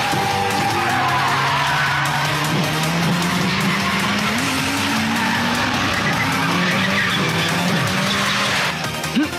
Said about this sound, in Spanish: ¡Qué rápido corre ese auto!